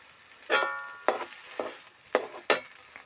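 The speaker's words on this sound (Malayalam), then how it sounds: "നല്ലപോലെ വേവിച്ച് ഉടച്ച കാച്ചിലാണ്. അപ്പോൾ ഒന്ന് ആ ഒരു മണവും ചുവയൊക്കെ ഒന്ന് പോകാൻ വേണ്ടിയിട്ടൊന്ന് വഴറ്റിയെടുത്താൽ മാത്രം മതി." Mashed cooked purple yam being sautéed in a pan, with a handful of distinct spatula scrapes and soft sizzles spaced through a quiet background.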